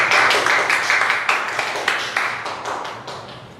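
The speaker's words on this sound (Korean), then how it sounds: "우리 다 같이 박수로 환영하겠습니다." An audience at a lecture claps to welcome the speaker, loud close hand claps in a fairly sparse, uneven pattern that gradually thins out, with no talk.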